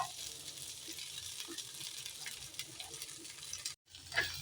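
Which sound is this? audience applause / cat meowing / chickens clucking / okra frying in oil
okra frying in oil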